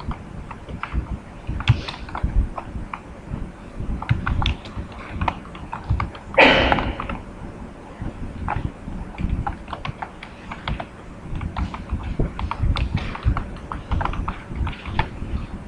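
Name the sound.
typing code on a computer keyboard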